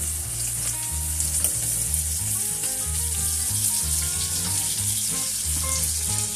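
Cubed butter bubbling and sizzling loudly in hot caramelized sugar for salted caramel, a dense continuous frothy hiss close up, with faint music underneath and no talk.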